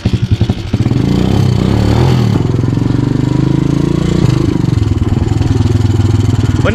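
A college-days motorcycle used for farm trips on a robusta coffee estate, its engine sputtering into life and then running loud and close with a steady thrumming idle and a slight rise in revs.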